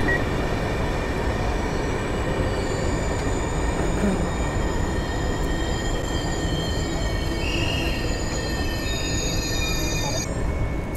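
A passenger train rolls past close by, loud and continuous, with a dense rumble and high metallic squeals from the wheels on the rails.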